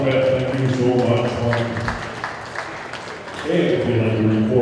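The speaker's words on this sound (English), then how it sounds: "Big round of applause" Audience applause at a heifer cattle show ringing out across the arena, a steady broadband patter that swells in the middle and then fades as voices and other sounds return on either side.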